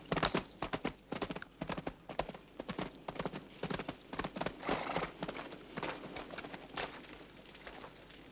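Horse-drawn carts arrive at a prisoner camp in a Western setting, hooves clip-clopping loudly and continuously in a steady, uneven rhythm over the whole stretch, with faint bird calls mixed in.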